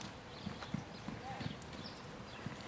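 Hooves of a western-trained mare cantering in a lesson arena, soft rhythmic thuds in a steady three-beat pattern, fairly distant and faint beneath low background noise.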